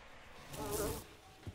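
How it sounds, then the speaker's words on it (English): Bees buzzing in the video game Doors, a soft droning hum that swells briefly in the middle and then fades, quiet and close, with no talk over it. "It's the bees."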